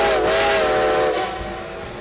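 A loud, sustained steam whistle blows with a rich, harmonic tone that fades slightly toward the end, rumbling train noise beneath it.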